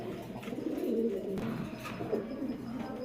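A black military pigeon, a male racing bird, gives low rolling coos close by, a soft throaty murmur repeated over a few seconds against quiet background noise.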